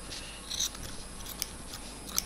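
Scissors snipping into a leather glove, a few soft cuts and faint clicks of the blades over a steady background hiss, fairly quiet and close.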